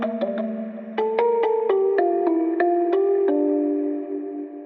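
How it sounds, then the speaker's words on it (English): Omnisphere synth bell patch called In Memoriam 1, playing a melody of about a dozen struck notes with shimmering harmonic overtones and a sustained, ringing tail, heard alone with no talking. "This bell is Omnisphere."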